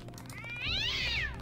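A single rising-and-falling cat meow in Deus Ex Revision, close and clear, lasting under a second over quiet background ambience.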